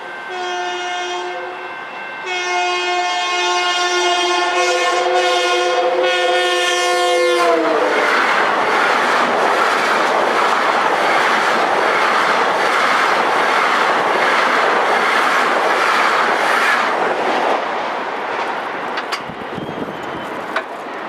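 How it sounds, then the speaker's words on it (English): A westbound LIRR equipment move passes a road crossing on the Montauk Branch at night, opening with a loud multi-tone horn that bends in pitch as it passes, then a long roar of wheels clattering over the rails that fades at the end. "At 8:17 we have a westbound equipment move going through."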